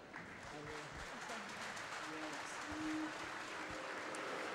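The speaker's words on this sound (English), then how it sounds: "so a massive round of applause for Joseph Craig." A crowd applauds at a British swimming championships in an indoor pool venue, the clapping distant and steady throughout while an announcer talks over it.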